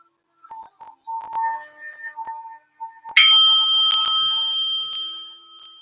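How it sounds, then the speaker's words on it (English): A meditation bell opening a yoga and breathing class, struck once with a bright metallic ring that sustains and slowly fades, preceded by a few faint soft tones. "So I'm going to sound the bell"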